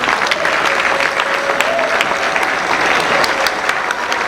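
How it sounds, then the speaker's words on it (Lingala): Audience applause at a wedding celebration, steady and dense clapping from a large crowd that continues loudly for the whole stretch without a break. "Voulez-vous applaudir encore pour elle"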